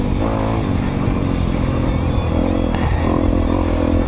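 A 2022 Honda CRF250RX dirt bike engine revs loud and close as it is opened up, pitch climbing and falling through throttle bursts with mechanical clatter, no voices.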